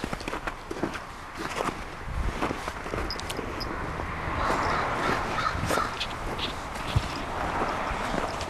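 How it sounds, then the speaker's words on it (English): Crow cawing outdoors in snow, several sharp caws scattered over the scene, mid-distance, alongside crunching footsteps and light movement noises; no talk. "Look at the crow. I filmed it."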